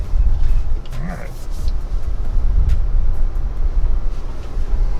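A Ford Bronco crawls slowly off-road in its low-speed crawl mode, with a steady low engine and drivetrain rumble, tyre crunching and body creaks, and a brief voice heard near the start.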